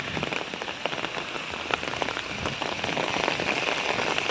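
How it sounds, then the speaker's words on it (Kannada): Rain falls steadily on a route to a relative's home, a dense, close patter of drops hitting surfaces that keeps up evenly from start to finish. "ಮಳೆ ಬರ್ತಾ ಇದೆ."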